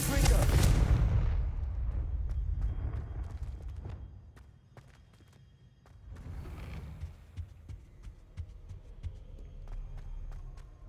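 Confringo blasting spell going off in Hogwarts Legacy: a loud, deep explosive boom at the start that rolls into a long rumbling tail, then a second, softer swell of blast noise around the midpoint, with scattered clicks and thuds.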